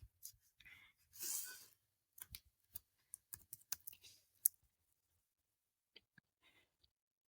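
Java code typed on a computer keyboard: quiet, close keystrokes and clicks in short irregular bursts with pauses between.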